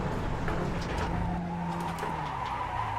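A race car in the iRacing simulator at Sonoma Raceway runs off the track, its steady engine drone mixing with tire scrub and skidding noise for the full stretch, loud and close.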